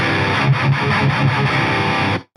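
A distorted 1987 Jackson King V electric guitar through a Boss chorus ensemble, in drop C tuning, chugging rhythmically with a shimmering chorus for about two seconds before cutting off abruptly.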